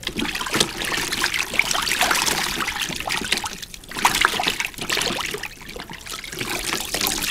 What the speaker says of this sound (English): Take the produce, agitate it in the water for approximately 10 seconds.